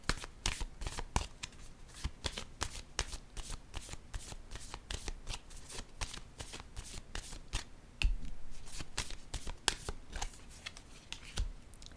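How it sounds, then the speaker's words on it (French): Tarot cards handled and laid down at a reading, giving a rapid, steady run of crisp flicking and snapping card sounds up close, shuffle-like and continuous, with no voices. "Je vais déposer une carte sur ces deux-là"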